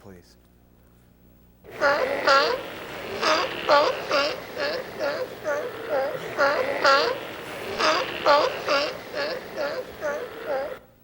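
A walrus calls in a repeating series of pulsed, grunting barks with a nasal, whining edge, loud and fairly close, after a near-silent opening.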